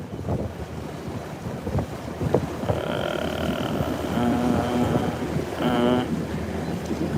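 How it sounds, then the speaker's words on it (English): Strong wind buffets the microphone aboard a bass fishing boat on Lake Lanier, a loud, constant rumbling roar with faint mechanical tones rising partway through. "I don't have my headset, so that wind may be a little too much for you guys that are watching"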